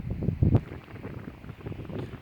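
Gusty wind buffets the microphone in low rumbling bursts at a campsite in Guadalupe Mountains National Park, steady throughout with a stronger gust near the start.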